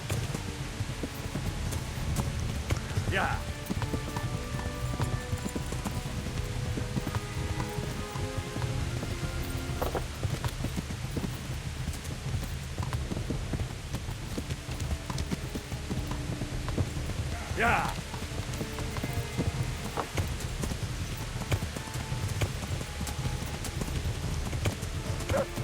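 Galloping horse hooves beat on in Kingdom Come: Deliverance as rain patters all around, a steady quiet clip-clop blended with constant rainfall, with someone talking over it.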